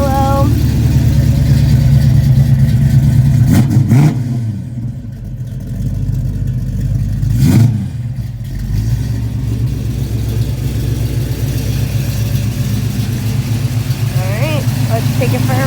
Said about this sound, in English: Here we are, 1972 Mach 1, taking it for a spin.